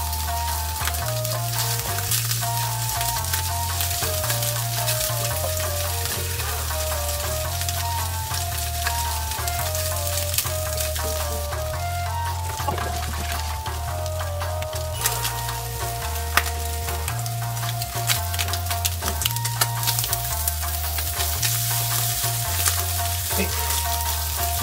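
Goya champuru cooks in a frying pan with a steady close sizzle and occasional stirring clatter, under a looping background tune, with no talking.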